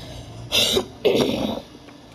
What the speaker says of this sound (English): so i have been coughing now